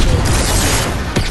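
A rocket launcher explosion in Fortnite booms loud and close, a dense roaring blast that fills the whole moment, with a second sharp crack near the end.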